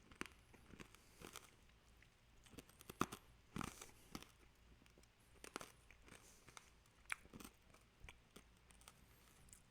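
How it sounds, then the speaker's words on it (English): Hard green tea flavored Japanese candy being crunched, a sugary boiled sweet from a snack box, giving scattered sharp cracks and crunches close to the mic amid quiet rustling, with no talking. "You might be able to hear the crunching."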